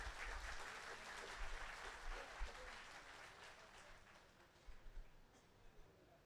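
A crowd of listeners claps for LIC insurance agents at a motivational talk, a steady, dense wash of applause that holds for several seconds with no voices over it.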